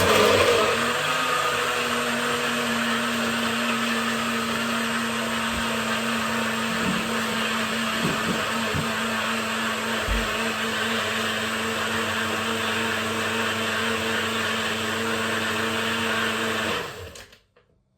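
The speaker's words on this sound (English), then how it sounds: "just a couple of scoops of protein, banana, load of ice, whack that in there, little blend" A blender whirs steadily through a protein shake of protein powder, banana and ice, a loud, constant motor drone with faint rattling of ice, running alone for about seventeen seconds before cutting off abruptly.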